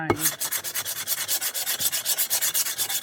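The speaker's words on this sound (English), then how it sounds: "These are diamond core sanding pads." Diamond core sanding pads wet-sand a stoneware clay leaf in fast, steady back-and-forth strokes, a close, even rasping rub repeating several times a second with no talk.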